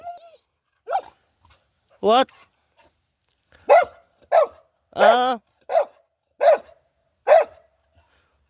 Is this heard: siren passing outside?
no